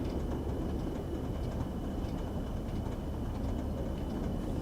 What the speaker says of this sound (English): Is that a diesel I hear? You sure do hear a diesel. A lovely diesel.